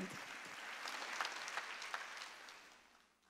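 Church congregation applauding together during a Wednesday worship service, a steady wash of clapping that swells and then tapers off toward the end.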